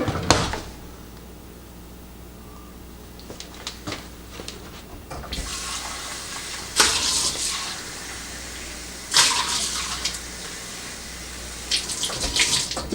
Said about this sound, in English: 3 cups hot water.